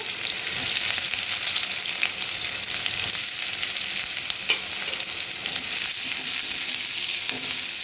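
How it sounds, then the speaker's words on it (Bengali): Sliced onions frying in hot oil for birista, crisp fried onion for a Bengali mutton korma, give a steady, bright sizzle with occasional spatters and faint stirring, close and continuous with no talking. "এবার আমি পেঁয়াজ দিয়ে দিচ্ছি তেলের মধ্যে"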